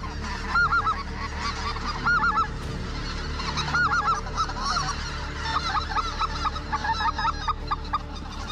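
A large flock of specklebelly geese honks repeatedly in bursts over decoys at a duck-and-goose hunt in Arkansas, many birds calling at once, loud and near with a constant background chorus.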